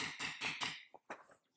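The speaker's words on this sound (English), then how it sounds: "what I'm doing when I'm beveling leaves" Metal beveling tool struck repeatedly with a mallet to bevel tooled leather leaves: four strong, even taps close by, then lighter, softer taps trailing off.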